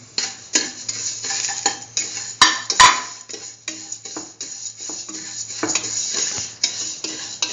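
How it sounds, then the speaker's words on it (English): A utensil stirs sugar into vermicelli in a pan for chayote vermicelli soup, making close, rhythmic scraping and clinking against the metal over a light sizzle. A few sharper knocks stand out partway through, with no talking. "Mix in the sugar with the vermicelli."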